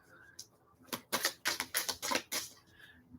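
Psychic reading cards are shuffled in three quick riffles, a run of dense crisp bursts close to the mic, with brief isolated flicks before and after in an otherwise quiet room.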